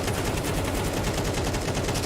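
Rapid automatic gunfire spray in the Counter-Strike 2 video game during a tournament match, a loud, continuous burst of closely spaced shots with a fast, even rhythm.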